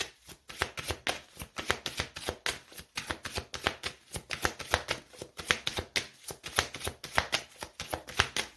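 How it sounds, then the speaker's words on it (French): Tarot cards being shuffled and drawn, a dense run of quick riffling and flicking card noises at close range that continues steadily throughout with no talk over it. "on va prendre une petite carte pour le sentimental."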